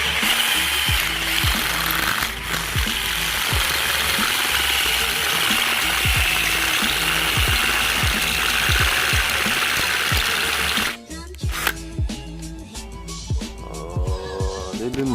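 A step bit drilling a hole in metal during a G-body axle and Corvette brake install, the drill whirring steadily with rapid rhythmic chattering from the bit for about eleven seconds before stopping, followed by scattered workshop clatter.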